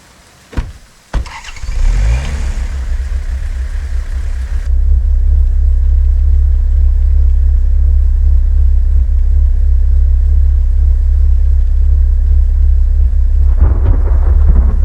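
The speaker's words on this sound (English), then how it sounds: "we decided that we will add sound for the rain, which was hitting the" Video game rain drums steadily on a car roof, a loud continuous wash, after a few sharp knocks and a rising rumble at the start.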